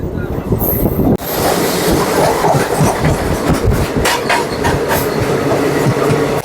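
An AC train from Rishikesh to Sealdah rumbles along the tracks with rhythmic clickety-clack of wheels over rail joints, loud and close, with a brief dip near the start.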